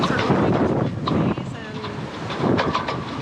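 Strong wind at sea buffets a sailboat amid whitecapped waves, with heavy roaring gusts rising and falling across the microphone and faint voices in the background.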